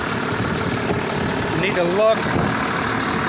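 A tractor hitched to a disc engine idles steadily and close by, a constant low rumble throughout with a brief voice speaking over it.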